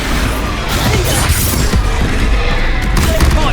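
A spell blast in the Hogwarts Legacy video game, a dense crashing explosion with booming low rumble and debris-like crackle, loud and sustained across the moment, with faint voice underneath.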